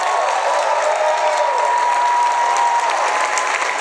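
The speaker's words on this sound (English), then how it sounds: "Please applaud them as I call them out." Audience applause for early childhood educators at a teachers' summit, a steady, loud wash of clapping from a large crowd sustained without break, with no voices standing out.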